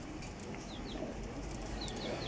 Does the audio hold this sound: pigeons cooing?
yes